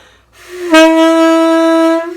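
A single sustained alto saxophone note, steady and loud with a bright, somewhat flat and pinched tone, held for about a second and a half.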